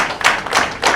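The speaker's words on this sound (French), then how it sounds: "Applaudissez." Applause at a meeting of the national drivers' union of Benin, a close, loud burst of clapping hands with three swelling peaks within a second and no speech over it.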